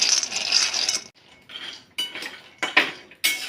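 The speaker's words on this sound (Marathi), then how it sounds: "आता मस्त शेंगदाणा भाजून घेते" Peanuts dry-roasting in a pan rattle and scrape in short, close bursts as they are stirred, with pauses between the clattering strokes and no talk.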